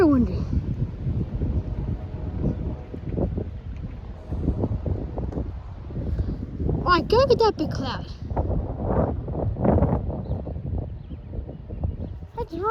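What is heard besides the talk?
strong wind storm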